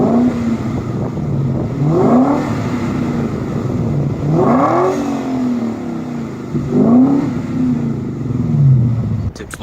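BMW E38 740i engine revving through aftermarket exhaust tips, three rising and falling rev sweeps in a row over a steady idle rumble, heard close and loud with some talk.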